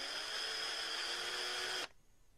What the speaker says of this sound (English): we need to drill a hole about 1/4 inch down from the top